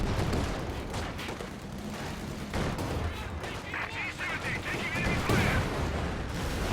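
Company of Heroes 2 battle with continuous gunfire and tank grenade explosions, dense loud rattling bursts and booms, with talk over the fighting.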